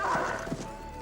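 A horse on a mountain approach to a volcano neighs with a brief whinny over a couple of hoof clops, close and moderately loud, with a voice heard alongside.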